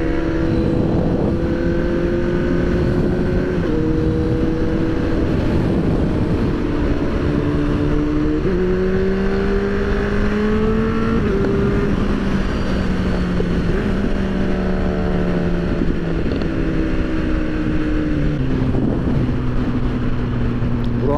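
Kawasaki Z800 motorcycle engine while riding, a steady close drone whose pitch steps up and down through gear changes, with heavy wind rush over the microphone throughout.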